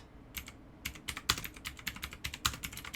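Someone types on a computer keyboard in quick irregular bursts of crisp, close clicks and key taps, with no talking.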